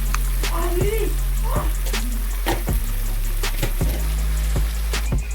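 Fish curry masala for Bihari-style rohu curry is stirred and roasted in a pan on a low flame, with a soft steady sizzle and scattered scraping clicks of the spoon, while voices talk over it throughout.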